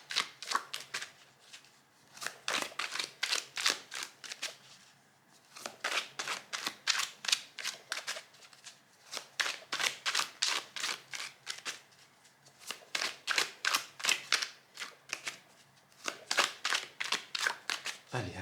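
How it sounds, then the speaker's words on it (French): Tarot cards being shuffled by hand in repeated riffling bursts, crisp rapid flutters with short pauses between rounds, close and fairly quiet, with no talking. "assez battu les cartes comme ça"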